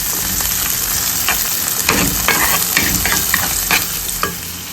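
Shallots and chili sauté in a hot pan while a utensil stirs, a steady sizzle broken by frequent quick scraping strokes, close and fairly loud with no speech.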